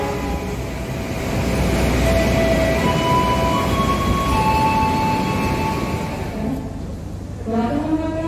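The Argo Wilis executive-class train, with stainless steel cars built in 2018, pulls into track 2 at Kutoarjo station, a loud steady rumble of wheels on rails with squealing tones near the end.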